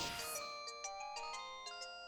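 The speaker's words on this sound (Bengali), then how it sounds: "রিং হচ্ছে।" A telephone rings out on a call in a Bengali cartoon, a quiet electronic ringtone of short repeated tonal pulses in a steady rhythm, heard alone without talk.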